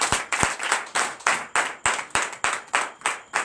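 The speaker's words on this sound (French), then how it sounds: "Donnez l'acclamation à Jésus." A church congregation claps for Jesus during a night deliverance service, the hands striking together in a steady, rhythmic beat of sharp, even claps that repeat about three times per second.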